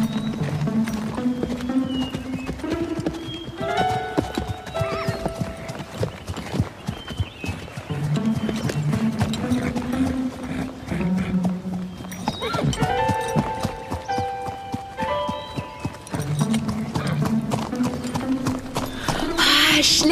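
A pony gallops with rapid clip-clopping hooves beneath loud music and occasional talk, steady and close throughout.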